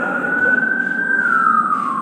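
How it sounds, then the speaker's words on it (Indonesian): A passing emergency vehicle's siren, such as an ambulance or an official's escort, wails in one loud, sustained tone that swells and then slowly drops in pitch, heard alone with no talking. "Oh bukan pakai ambulan, pakai sirine."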